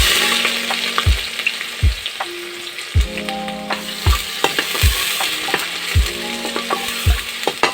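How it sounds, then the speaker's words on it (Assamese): Ginger garlic paste and onions going into hot oil and frying, with a bright continuous sizzle broken by repeated sharp clanks of a spoon against the pan, about one each second. "তেলখিনি যথেষ্ট গৰম হৈছে, তাত প্ৰথমতে দিয়ক নহৰু আদাৰ পেষ্ট, পিঁয়াজ"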